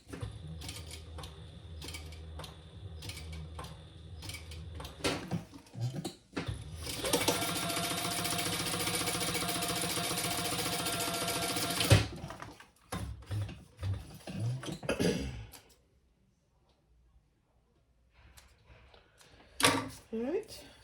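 A sewing machine top-stitches a folded fabric strap, giving bursts of rapid mechanical stitching with one long steady run in the middle, framed by handling clicks and a few spoken remarks.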